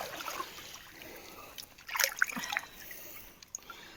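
Water trickling and splashing in a stream as a person carrying a pack slides down into it, a faint steady flow with a brief louder splash burst near the middle.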